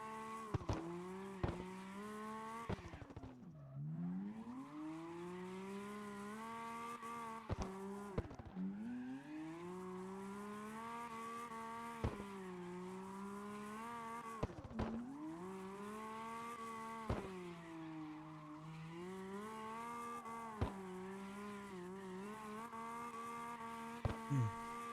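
Tuned tandem drift car in a racing game, its engine revving hard and continuously with repeated sharp throttle blips and gear shifts, tires squealing through long slides, loud and alone with no talking.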